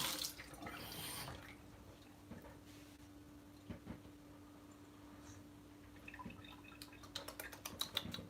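Cold water runs from a tap into a sink as a steady faint rush, with a louder splash early on and scattered drips and clinks toward the end.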